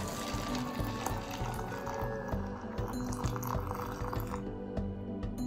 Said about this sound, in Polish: I wodę zalewamy wrzątek.